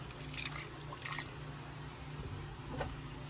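A little water poured into a pan of milkfish (bangus) being cooked with pepper and vinegar in a home kitchen, heard as soft dripping and trickling splashes, faint and close, with no talk.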